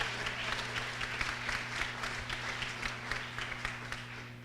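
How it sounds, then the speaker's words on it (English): Audience applause for a speaker at the Big Bang 2013 event, a steady wash of many hands clapping at moderate distance, with a low electrical hum running underneath throughout. "how about another round of applause for Mike"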